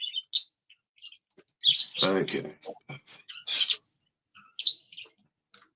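Pet birds in an indoor bird room chirp in short, bright bursts, close by and scattered across the moment, while a person briefly speaks.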